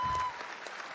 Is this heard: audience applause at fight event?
yes